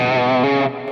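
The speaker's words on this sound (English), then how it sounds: "You hear that tube screamer on it." A loud, sustained overdriven electric guitar chord through a Tube Screamer overdrive pedal, thick distortion ringing out, then shifting pitch briefly before easing slightly.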